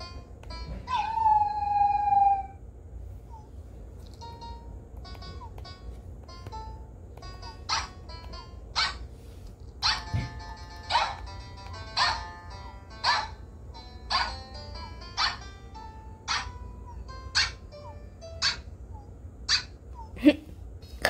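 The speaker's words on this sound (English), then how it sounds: "Look how high-pitched I got them to bark, guys." A Nintendogs puppy in the video game gives a short high howl, then a long series of high-pitched yips and barks at an even pace, clear and fairly close.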